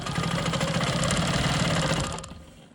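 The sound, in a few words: sewing machine quilting a quilt block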